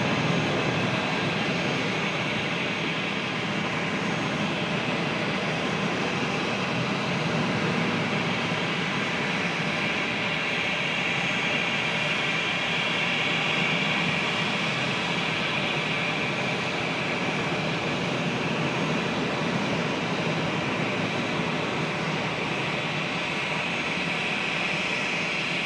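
An American Airlines jet arriving from New Orleans at Charlotte airport makes a continuous, moderately distant engine rumble and hiss that holds steady for the whole stretch, with no talking.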